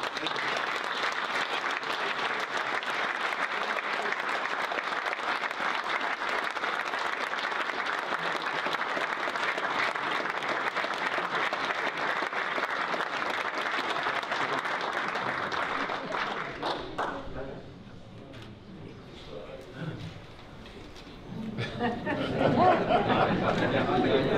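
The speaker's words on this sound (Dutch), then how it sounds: "En nog graag één keer een applaus voor u." An audience applauds a royal decoration recipient with sustained, even clapping for about sixteen seconds, then it fades into murmuring chatter before voices rise again near the end.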